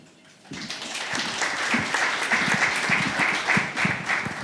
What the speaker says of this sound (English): I didn't expect an applause at this stage